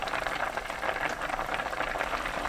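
A pot of tuna and radish stew bubbles at a steady simmer over medium heat, uncovered, giving a continuous close, dense bubbling with no voices.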